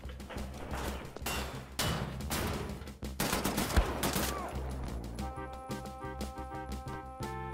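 Assault rifle fire in Wolfenstein: The New Order comes as several rapid, close, loud bursts and single shots, followed by a calmer stretch of steady tonal game ambience.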